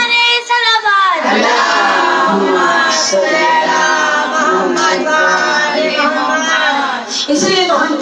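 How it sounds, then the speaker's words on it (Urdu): A crowd at an 8th Muharram majlis gathering chants Haidari slogans and recites salawat together, a loud, sustained mass of voices with rising and falling tones filling the space. "حیدری حیدری نعرے صلوات"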